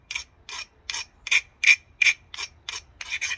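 A flint point's edge is beveled with an abrader in a flint knapping session, giving about ten short rasping scrapes in a steady rhythm, close and fairly loud, with no talk.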